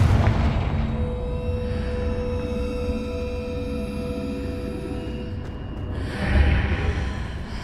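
A Confringo fire curse explodes in Hogwarts Legacy as a sustained low, rumbling boom with a roaring tail, followed by a second swell of blast energy near the end, with no talking.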